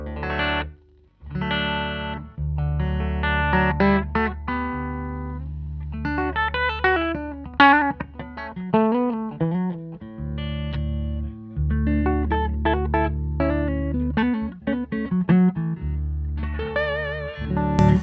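Clean, dry electric guitar with all pedalboard effects off, playing chords and short melodic runs, bright and unprocessed, with brief pauses between phrases and no voices.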